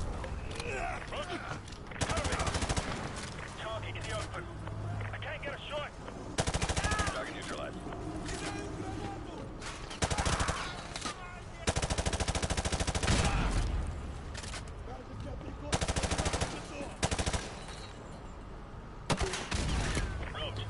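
Rapid automatic gunfire in the Modern Warfare 2 Remastered campaign, coming as repeated loud close bursts separated by short pauses, with a player talking between them.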